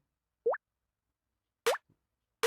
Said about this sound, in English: here's this little water drop sound I made, simple.